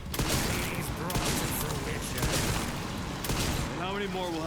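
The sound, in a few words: gunshots firing at boss Victor in video game Resident Evil Requiem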